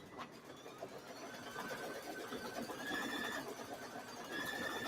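Embroidery machine stitching out a Believe wall hanging design with 70-weight bobbin thread, a steady, busy mechanical whir with faint rhythmic ticking and chirp-like squeaks, continuous at moderate distance, with no talking.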